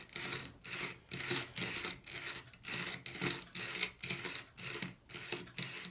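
A chisel being sharpened on an MPower FastTrack Mk2 with 100 grit abrasive, a rhythmic rasping back-and-forth grind, about ten even strokes of roughly half a second each, close and moderately quiet.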